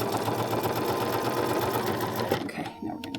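A Bernina sewing machine set to a 2.5 stitch length runs through fabric for a bowl cozy, making a fast, even mechanical whirr close by for about two seconds before it stops, followed by brief handling noises.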